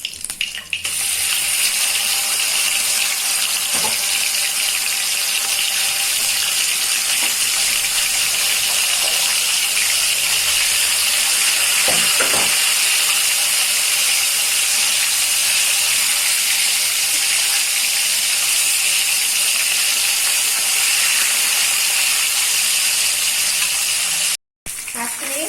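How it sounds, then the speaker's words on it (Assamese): Local fish frying in oil in a pan for an Assamese sponge gourd curry, giving a steady, loud broadband sizzle and hiss that runs unbroken for the whole stretch, with a few faint clicks and a brief dropout near the end. "এইখিনি মাছো মই ভাজি লম।"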